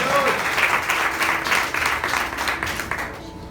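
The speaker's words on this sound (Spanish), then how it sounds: "Denle un fuerte aplauso al Señor y a su nombre." A church congregation breaks into loud, dense applause for the Lord, clapping merged with cheering voices that slowly fades toward the end.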